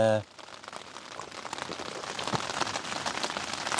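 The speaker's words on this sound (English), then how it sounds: "rain this morning, as we expected, so no big deal" Rain pattering on a tent on a still morning, a dense steady drumming of drops close by after a brief voice at the very start.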